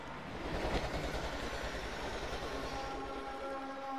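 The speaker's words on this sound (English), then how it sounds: "The whole team got knocked out by the train!" A train rumbles past in the video game Plants vs. Zombies: Garden Warfare, a steady, loud roar of rolling rail noise with faint horn-like tones near the end, heard alone.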